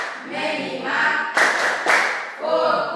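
A group claps out a rhythmic 'tepuk fokus' routine, bursts of hand claps in short patterned phrases, fairly close and loud, with a voice faintly mixed in.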